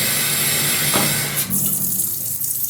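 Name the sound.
water spraying from defective Fluidmaster 400a toilet fill valve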